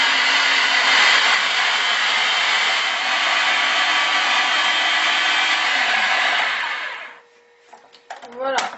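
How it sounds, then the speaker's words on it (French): A blender on high speed purees guacamole sauce in a loud, steady whir lasting about seven seconds, then cuts off, leaving faint clatter and a brief voice at the end. "mixer sur vitesse rapide 2 à 3 minutes pour obtenir une sauce"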